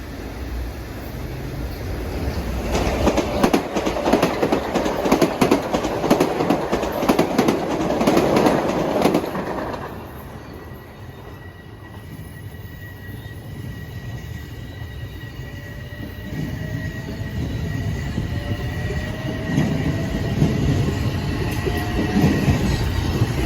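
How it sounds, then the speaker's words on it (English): A Metro-North passenger train rolls past nearby with a loud rumbling roar and rhythmic wheel clatter, then fades to a lower drone with a faint wheel squeal. "it won't be long before that train has to slow down for the next stop"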